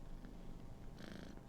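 A cat resting on a lap purrs in a soft, steady low rumble with a rhythmic pulse, close and quiet, with no other sound.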